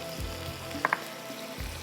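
Onions frying in a pot of oil, a steady close sizzle with a couple of brief higher clicks partway through, no talk over it.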